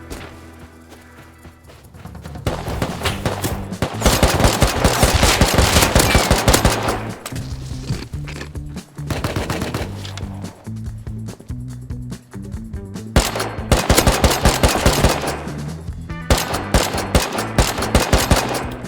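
Rapid automatic gunfire rings out in the survival game Rust, loud close bursts of shots in long runs broken by short gaps, with a few single reports between them.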